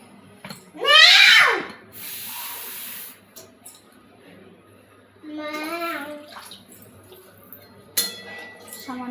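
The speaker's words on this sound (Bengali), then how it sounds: "সামান্য জল দিয়ে দিলাম।" Water is poured from a vessel into a simmering curry pot in a kitchen, one loud splashing pour followed by clinks and a second, softer pour, with a voice speaking between them.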